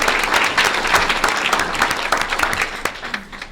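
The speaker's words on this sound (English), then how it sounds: "Let's give Laura and Alan a big hand of applause" A city council meeting audience gives a loud round of applause, dense clapping throughout that thins out toward the end.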